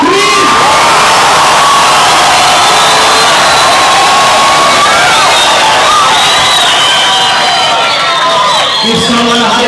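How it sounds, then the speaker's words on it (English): Church congregation clapping and screaming during a teaching service, a loud roaring crowd of shouts, whoops and cheers over clapping, with high voices rising and falling continuously. "clap your hands and scream!"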